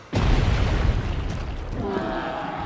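Explosion in the video game The Legend of Zelda: Tears of the Kingdom during a temple boss fight, a sudden deep boom that rolls on as a loud sustained rumble with no talk over it.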